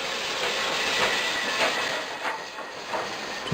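Light railway train on the Bredgar & Wormshill Light Railway running along the track near Wood station, a steady broadband rumble with faint rhythmic clicks and hiss, fairly close, with no talk.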